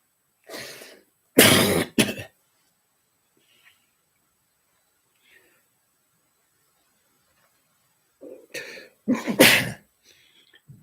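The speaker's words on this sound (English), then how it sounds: "And sneezing." Close, forceful sneezes with throaty coughing sounds, a loud burst early on and another cluster near the end, separated by quiet.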